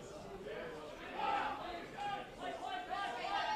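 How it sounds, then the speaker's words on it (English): Soccer crowd of Floreat Athena supporters at an NPL WA match against Inglewood United, a distant swell of shouting and jeering, reacting to a free kick, with a commentator talking over it. "Much to the angst of the Floreat crowd to my left."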